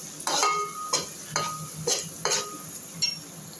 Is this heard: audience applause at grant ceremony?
no